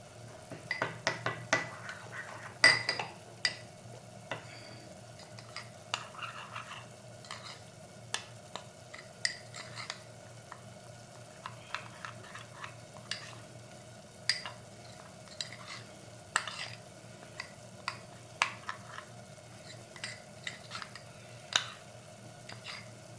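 A spoon stirs guar bean curry in a pan, giving scattered soft scrapes and clinks against the metal over a faint sizzle, quiet and without talk.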